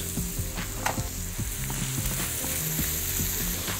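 Onions and garlic sauté in a hot pan for a minced-meat pasta, sizzling steadily and close, with repeated stirring scrapes cutting through the constant frying hiss.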